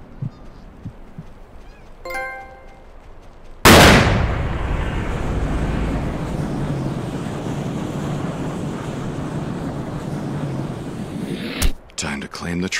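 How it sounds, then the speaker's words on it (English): Rifle gunshot while hunting a grizzly bear in Cabela's Hunting Expeditions on PS3: a single loud, sharp report followed by a long rumbling roar fading over several seconds, with a second crack near the end. "I shouldn't have to shoot them twice."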